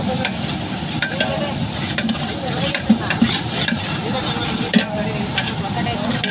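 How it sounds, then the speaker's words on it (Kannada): Onions sizzle and fry steadily in a pan over a low flame for a veg biryani cooked at Sabarimala, with occasional stirring scrapes and a voice talking over the continuous hiss. "ಈರುಳ್ಳಿ ಎಷ್ಟು ಚೆನ್ನಾಗಿ ಫ್ರೈ ಆಗ್ತಾ ಇದೆ"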